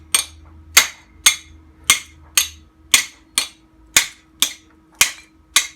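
Eleven sharp metallic hammer blows ring out at a steady pace, each striking an old bolt welded to a heated bearing on a 1964 Mini's top arm, decaying quickly, with no talking.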